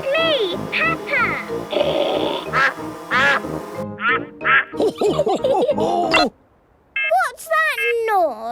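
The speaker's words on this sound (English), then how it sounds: "Here is Mrs. Duck." A cartoon duck character, Mrs. Duck from Peppa Pig, quacks repeatedly in bright, loud bursts, mixed in with children's cartoon voices talking and a short quiet gap near the end.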